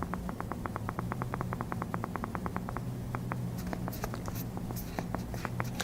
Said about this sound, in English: Here's the sound of the new remote.